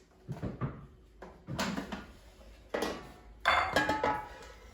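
An air fryer basket holding cooked mushrooms is pulled open in a home kitchen, making several close, sharp clatters and sliding metallic clunks in short bursts with pauses between, with no talking.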